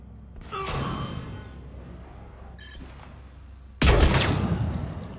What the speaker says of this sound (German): Da hinten sitzt also ein Scharfschütze.